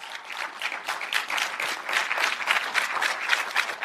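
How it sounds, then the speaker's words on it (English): A conference audience at IHRSA 2017 breaks into a round of applause, a dense crowd of hands clapping steadily and fairly close, with no break in the noise. "Let's give it a round of applause."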